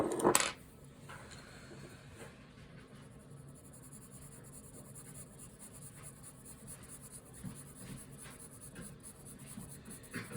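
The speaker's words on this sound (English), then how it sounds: "I'm controlling my pencil, pulling in one direction." Graphite pencil shading on paper for a Bargue drawing exercise: a steady, close, soft scratching and rubbing of strokes pulled in one direction, heard alone after a brief louder knock at the start.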